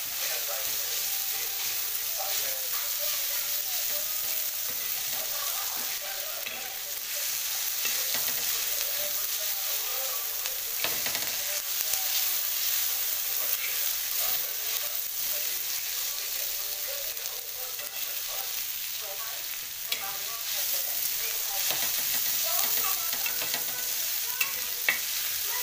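Food stirred and roasting in a hot pan, giving a steady close sizzle with scraping stir strokes throughout and little or no talk.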